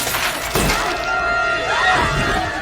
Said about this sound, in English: All that broken glass?